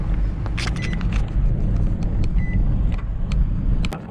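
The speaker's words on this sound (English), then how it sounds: "A little bit of traffic." Road traffic passing near a campsite in New Zealand, a low steady rumble of vehicles with a few brief higher clicks and whines over the top.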